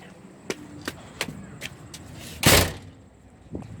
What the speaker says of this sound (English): Gonna close the door.